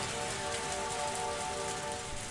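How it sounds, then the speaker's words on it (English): Rain falls steadily in a forest, a dense, even hiss of drops on leaves and ground, continuous and close with no voices. "We're in the middle of the forest, and on top of that, it's raining."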